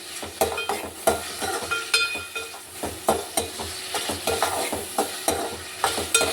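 Tomatoes softening in a pan for an okra curry, with a steady sizzle and repeated scraping stirs of a spatula against the pan at a regular rhythm, close up and with no talking.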